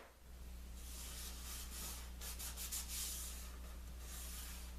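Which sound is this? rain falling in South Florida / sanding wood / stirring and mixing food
sanding wood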